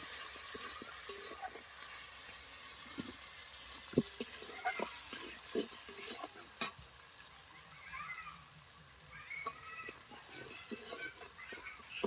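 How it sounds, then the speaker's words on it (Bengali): Spice paste with cumin powder is sautéed in a pan, a soft continuous sizzle broken by scattered scraping and clinking of a stirring utensil, fairly quiet and close. "আর দিয়ে দিচ্ছি জিরে গুঁড়ো দিয়ে মশলাটাকে এবার ভালোভাবে কষিয়ে নেব"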